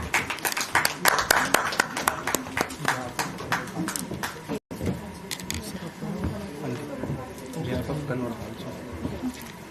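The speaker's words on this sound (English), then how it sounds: "Please give a great round of applause." Audience applause at a national convention of electronics and telecommunication engineers, a burst of clapping over which a voice speaks, broken by a brief dropout, then quieter hall noise and talk.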